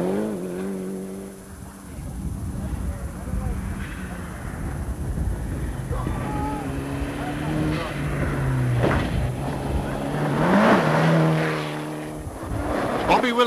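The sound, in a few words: Mitsubishi and Ford Sierra rally cars racing, Qatar International Rally 1992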